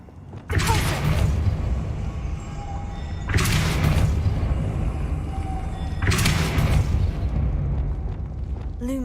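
Three heavy booming blasts of the Depulso spell in Hogwarts Legacy, each a sharp loud burst that rumbles and fades, spaced about three seconds apart, with no talking.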